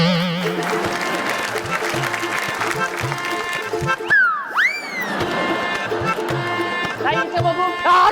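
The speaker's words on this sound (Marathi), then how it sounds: "जोरदार टाळ्या होऊन जा." A studio audience applauds at a Marathi women's game-show celebration for two winners, a rolling clatter of claps under music and a host's voice, with tonal effects sweeping through midway.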